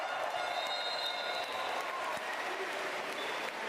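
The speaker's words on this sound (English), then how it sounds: "D. Boss, quite rightly, gets a huge round of applause as he heads to the bench" A large crowd gives a sustained, loud round of applause as a basketball player heads to the bench late in a close Bulgaria vs. Latvia game, the dense clapping steady throughout.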